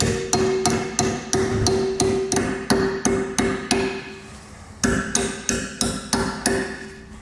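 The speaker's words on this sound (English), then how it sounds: "take a hammer and this little flat portion of the 4-way, we're just going to hammer that flat to the bottom of the bracket here" A hammer strikes the metal tab of a 4-way trailer wiring bracket to flatten it, a steady run of sharp ringing metallic blows, close and loud, about two per second with a brief pause midway.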